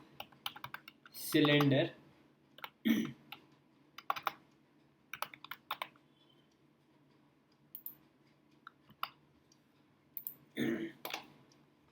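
Someone types a short burst on a computer keyboard while creating and naming a new component in a CAD program; the keys click clearly and closely, followed by scattered single clicks, with a voice speaking briefly between them.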